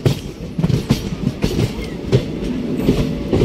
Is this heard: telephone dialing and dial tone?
no